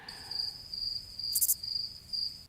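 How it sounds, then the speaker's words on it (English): Crickets chirp steadily outdoors in a high, continuous trill that pulses slightly, with a brief brighter burst of noise near the middle and no voices. "Yeah, those are crickets chirping."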